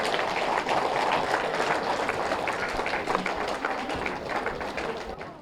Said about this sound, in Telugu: ఈ స్టేజ్ ఏర్పాట్లు చేసిన వాళ్ళందరికీ ఒకసారి గట్టిగా చప్పట్లు కొడదాం